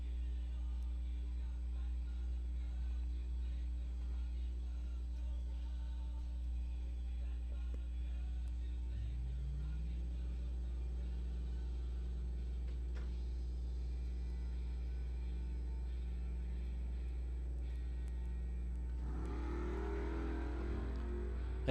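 Drag racing cars, a silver Monte Carlo and a Camaro, at Coles County Dragway give a distant engine rumble with one engine note rising, then a louder burst of revving near the end, all over a steady low hum.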